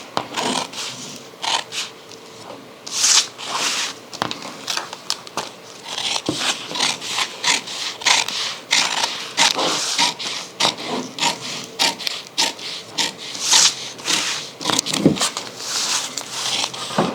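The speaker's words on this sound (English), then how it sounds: "So now we can cut this upper collar out" Scissors cut through an upper collar paper pattern in steady, close rasping snips and crunches, with short pauses between bursts and no talking.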